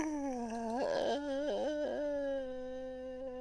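A voice imitates a deep fried chicken noise: a drawn-out, warbling, whiny wail that wavers up and down in pitch, fairly quiet and heard alone.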